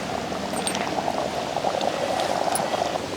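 Steady bubbling of a thick black chickpea tamarind curry simmering in a clay pot, a continuous close gurgle with small pops, no voices.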